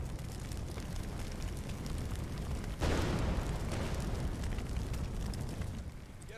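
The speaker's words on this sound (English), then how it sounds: "Apparently the explosions don't actually hurt you" Explosions in the firefighting video game, a muffled sudden blast amid steady roaring fire noise, with the rumble continuing at moderate, distant level and no talk.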